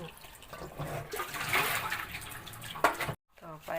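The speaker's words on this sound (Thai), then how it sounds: "เอาคณะเม็กซิโกหรือชยามาล้างกับซองน้ำ" Chaya (Mexican kale) leaves are washed in a container of water, sloshing and splashing under a talking voice, with a brief cut of silence near the end.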